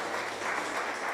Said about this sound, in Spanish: Ahora sí yo creo que sí debe darle un aplauso al Señor.